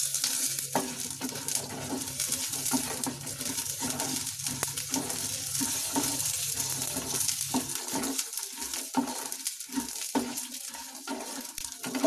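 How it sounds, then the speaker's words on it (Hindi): Peanuts and lentils dry-roasting with garlic in a pan, a steady soft sizzle and crackle with occasional scraping stirs and small clinks throughout. "मूंगफलियां और दालें अच्छे से भुन चुकी हैं।"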